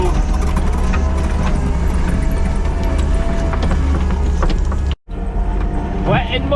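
A Kubota skid steer's engine runs steadily while grading wet, muddy ground with the bucket, a loud continuous drone with mechanical clanks. The sound cuts out briefly near the end before resuming, and no one speaks.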